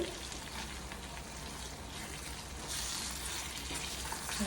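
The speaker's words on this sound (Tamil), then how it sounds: "நல்லா எண்ணெய் பிரிஞ்சு வர்ற அளவுக்கு நல்லா வெந்துட்டுருக்கு" Mango pickle cooking in oil, a soft, even sizzle and bubbling that carries on without a break and grows slightly louder toward the end, with no talking.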